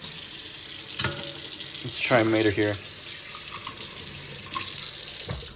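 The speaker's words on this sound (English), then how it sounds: "Let's get some hot water here." Hot water runs from a tap onto a Disney Cars Race & Rescue color-changing Mater toy car, a steady close splash and gush that swells for a moment while someone speaks over it.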